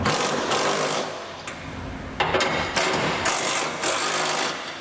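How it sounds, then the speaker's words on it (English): Rapid mechanical ratcheting while U-bolt nuts are tightened on a B&W Companion 5th wheel underbed trailer hitch kit, in loud continuous bursts with short pauses between runs. "Now what we're going to do with these is tighten down each nut a little bit at a time."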